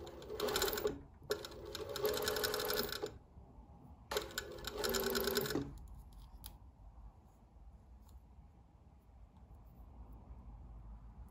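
A sewing machine running a rolled hem on chiffon for a tutu skirt, in two loud, steady bursts of rapid stitching with short pauses, then quiet room tone.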